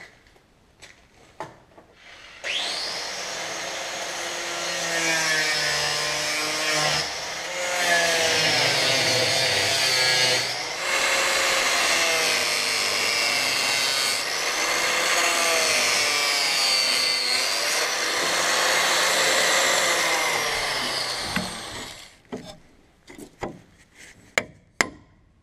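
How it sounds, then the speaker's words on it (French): Angle grinder cutting through a bolt head on a damaged combine harvester conveyor, one long loud whining cut of about twenty seconds with pitch shifts as the disc bites, then metallic clanks and knocks as it winds down. "Je vais couper le boulon avec la disqueuse."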